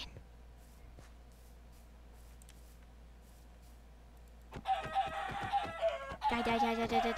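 A chicken in the Minecraft Lifeboat game: a few soft clicks first, then several close, clucking in-game chicken calls in the last few seconds over a quiet background.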